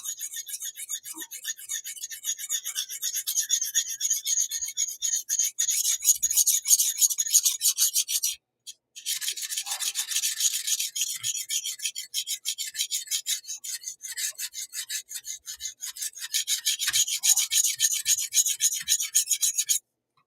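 A knife blade being sharpened until it raises a burr, heard as a close, steady run of rapid raspy strokes that continues for about twenty seconds with one brief pause and no talk.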